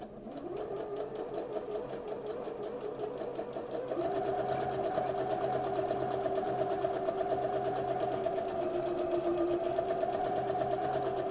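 Sewing machine back-stitching to lock stitches at the end of a seam on a shirt, running continuously with a steady rhythmic whir that rises slightly in pace partway through, close and alone.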